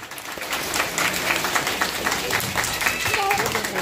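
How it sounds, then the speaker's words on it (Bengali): Audience applause at a school gathering honouring teachers, a steady dense wash of clapping from a crowd that holds for several seconds with voices mixed in. "ওনাদের জন্য একটা জোরে হাততালি হয়ে যায়"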